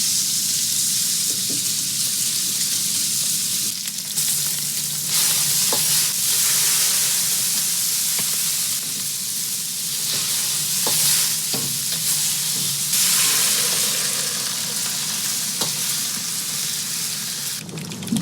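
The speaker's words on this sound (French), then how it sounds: "De la viande qui rissole" Meat browning in a pan in a tiny Tokyo restaurant kitchen at midnight, a loud, constant sizzle of frying with scraping stirs and light clatter of utensils throughout, no voices.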